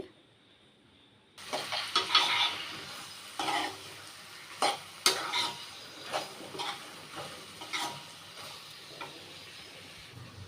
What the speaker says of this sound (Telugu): ములక్కాడ కొద్దిసేపు ఆయిల్లో వేపుకోవాలి